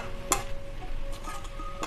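Amaranth greens fry in a pan while being stirred, a light sizzle broken by sharp clicks and scrapes of the utensil against the pan, close and brief with no talking.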